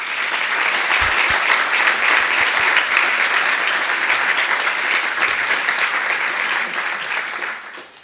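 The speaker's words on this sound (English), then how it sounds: "So I'd like a round of applause for the Muellers." Sustained applause from a large audience, steady and full for several seconds before tapering off at the end.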